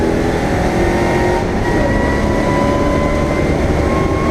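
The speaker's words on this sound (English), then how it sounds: "I think the Rover's actually catching up with the MG at the moment." Classic saloon race cars, a Rover and an MG, roar past during a wet, misty Scottish championship race, a loud steady engine drone with rising revs and no voices.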